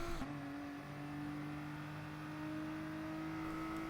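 A Mercedes race car in Gran Turismo Sport holds a steady, high engine whine down a fast straight, a constant droning tone without breaks or speech.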